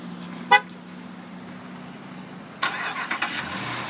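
2013 Ram 1500 Sport pickup locking, giving one short horn chirp early on, followed by quiet idle-like hum and a later burst of engine starting noise.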